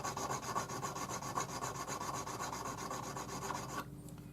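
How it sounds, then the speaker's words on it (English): Hand file rasping steadily along the inside edges of a hammered metal ring being flattened for a solder join, a close, continuous scraping of even strokes that stops abruptly near the end. "file the inside edges so that they're perfectly flat"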